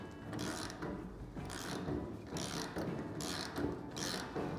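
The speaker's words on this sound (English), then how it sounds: "Using a 19mm socket and a wrench of some sort, we're gonna hold on to the axle." Axle nut tightened down on a Masterbuilt Gravity 560 grill cart with a 19mm socket and wrench, giving a run of close metallic ratcheting and grinding clicks over steady low rumble, no voices.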